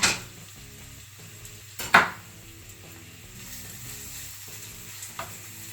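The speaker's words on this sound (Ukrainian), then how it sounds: "Дрібно нарізану цибулю кидаємо на пательню, обсмажуємо її до золотистого кольору." Finely chopped onion fries in a pan with a soft, steady sizzle under a faint repeating background melody, broken by a sharp clatter of a utensil against the pan near the start.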